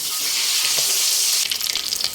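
Chicken pieces deep-frying in hot oil, a steady close, bright sizzle and crackle throughout that turns busier and more spattering partway through, with no talking.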